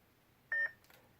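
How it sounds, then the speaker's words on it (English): A lightsaber hilt gives a single short, clean electronic beep as its button is held to switch sound fonts, followed by a faint click in an otherwise quiet room. "Now if you hold the button down until you get the second beep"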